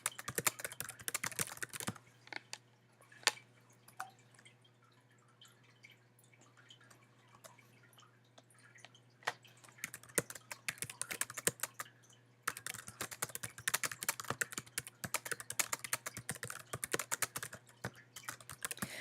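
Fingers typing on a computer keyboard in a quiet room, bursts of rapid clicking at the start and from about ten seconds on, with a sparse stretch of single taps between and a low steady hum beneath.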